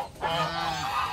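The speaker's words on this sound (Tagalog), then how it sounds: "meron tayong binibentang gansa dito" Breeder geese for sale in the Philippines honk in a short burst, one nasal, drawn-out call heard up close.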